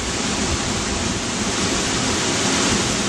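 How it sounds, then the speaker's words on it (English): Continuous heavy roar of a 40-foot waterfall at Fossil Creek in Arizona, a dense, even wash of crashing water that stays loud and constant from start to finish. "That's about 40 feet, 40 foot waterfall."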